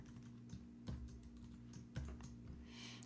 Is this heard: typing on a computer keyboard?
yes